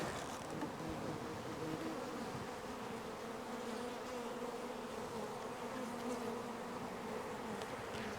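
A dense, steady buzzing of many honey bees close by on hive frames, continuous and even throughout, with no voices.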